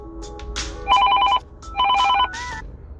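A telephone rings for an incoming call in two loud, close electronic bursts, with a brief higher tone after the second. Quieter background sounds fill the gaps between rings.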